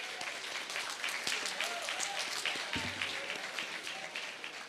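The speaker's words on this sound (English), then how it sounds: "Give yourselves a round of applause," Parents at the Caribbean Union College graduation ceremony clap in a hall, a steady wash of many hands continuing throughout at moderate distance, with faint voices beneath.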